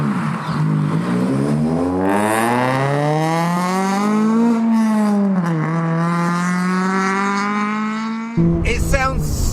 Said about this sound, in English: I think what we need to do is give it a little rev first